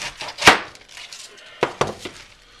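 A knife slices through a raw cabbage into thick steaks, a sharp crunchy cut followed by a couple more crisp chops against a board, close and unaccompanied by talk.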